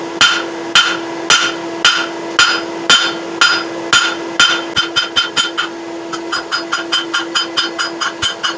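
Rhythmic metal hammer blows on hot steel over an anvil while forging a candle holder, slow steady strikes at first, then quicker lighter taps, loud and close with a sustained ringing tone.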